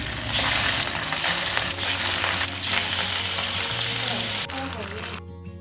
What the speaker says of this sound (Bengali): তারপর মাছটা ভাজা করে নিলাম।